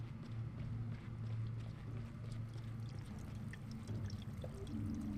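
Water gushes from a burst pipe in the video game Fall of Porcupine, a steady, dense rushing pour with low rumble that continues unbroken throughout.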